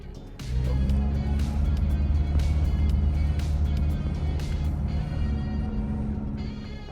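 An Isuzu MU-X 4x4 SUV pulls away in first gear, its engine rising into a steady low drone heard from inside the cabin, with faint ticking and rattles over the hum.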